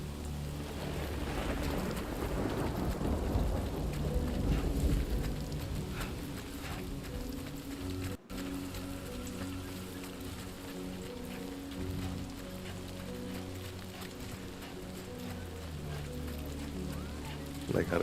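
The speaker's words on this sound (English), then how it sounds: "Like how the rain splatters" Rain spatters continuously in the video game Death Stranding 2, a steady hiss with low rumble under faint background tones, while a voice speaks over it.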